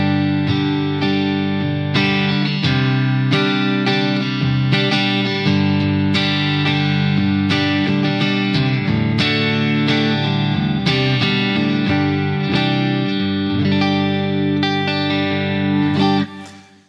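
Electric guitar played through effects with the middle and neck pickups combined in hum-cancelling, reverse-wound reverse-polarity mode, ringing out sustained chords and notes continuously at a steady, full level until a quick fade at the end.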